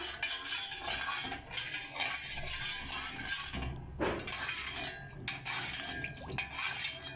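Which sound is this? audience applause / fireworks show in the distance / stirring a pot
stirring a pot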